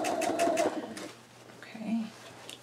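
A sewing machine stitching a quilt seam with a quarter-inch foot, a steady rapid whirring chatter at close range that fades as a person starts speaking.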